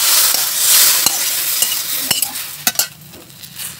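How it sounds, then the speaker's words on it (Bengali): Spices and food deep-frying in hot oil, a loud, steady sizzle with sharp crackles and pops rising near the end, no voices over it. "ছাঁকা তেলে ভাজা হচ্ছে, চুপ করছে না"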